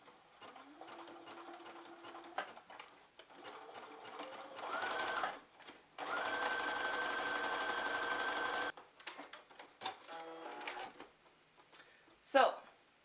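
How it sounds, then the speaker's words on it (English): A sewing machine with a universal foot stitches fabric at a slow pace, whirring in several bursts of a few seconds each with one longer steady run, close and clear, while a person talks between the bursts. "So I'm just going to sew a little bit slower."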